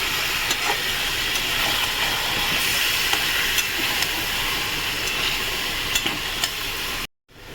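Chicken being stirred in a cooking pan gives a loud, steady sizzling hiss broken by occasional sharp scraping clicks, then cuts off abruptly near the end.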